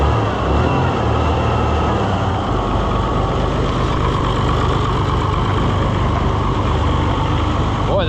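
An Oliver 1650 diesel tractor with pencil injectors idles steadily and close up, a loud, even low rumble throughout with no break.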